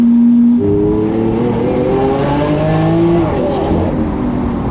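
A combustion sports car engine hums and rises in pitch as it revs in Monaco, steady and fairly loud throughout, with a rough low drone underneath.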